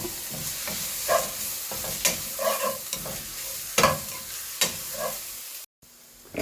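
Ginger and garlic frying in hot oil: a steady close sizzle with periodic scraping stirs, cut off abruptly near the end, no talking.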